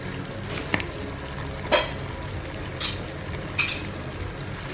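Kashmiri chili powder, coriander powder and turmeric are stirred in a hot frying pan, a steady frying hiss broken by a few distinct scraping strokes of the spoon against the pan.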